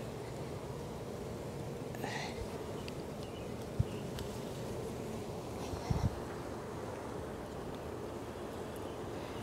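Honey bees swarm around an open hive as a frame is lifted out during an inspection, a dense, continuous buzz close by with a few faint knocks and handling sounds.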